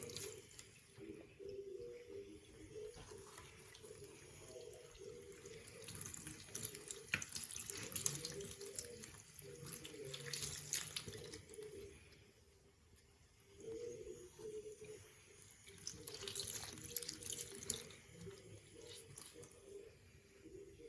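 Cold tap water runs into a sink while plastic Bratz dolls are rinsed, a steady splashing stream that briefly softens in the middle and then resumes, with no talking.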